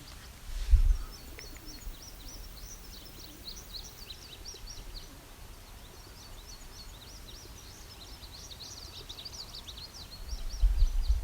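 Soft, repeated cooing of rock doves amid other faint bird chirps, including an indigo bunting, with occasional low thumps of handling noise.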